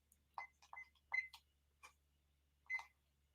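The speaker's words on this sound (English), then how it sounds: "I'm setting the timer for 3 minutes" A kitchen timer set for three minutes gives a scattering of sharp, sparse clicks and ticks, faint and irregular over a quiet low hum, with no talking.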